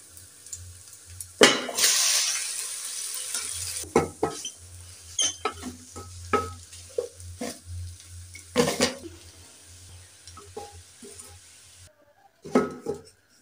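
Homemade wheat-flour noodles are tipped into a pan and stirred, with a spoon clanking and scraping against the metal in irregular bursts over a faint frying hiss and low background hum. A short quiet gap comes near the end.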